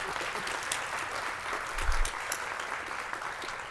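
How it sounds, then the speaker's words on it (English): Steady applause from a conference audience fills a plenary hall at SciPy 2024, a dense, even patter of many hands that holds evenly from start to finish. "So please give him a round of applause."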